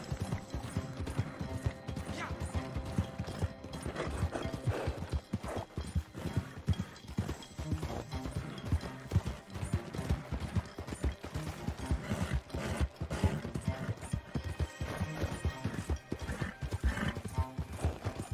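In the Western video game Red Dead Online, a horse clip-clops along at a steady gallop for the whole stretch, hooves rapid and loud, with neighing and whinnying breaking through and game sounds mixed underneath.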